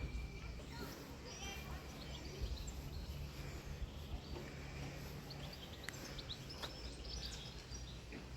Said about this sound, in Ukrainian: краса пташки співають